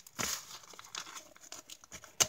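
A wrapped package from the mail is being opened, giving faint crinkling and tearing of paper in short irregular bursts, with a sharper rustle at the end.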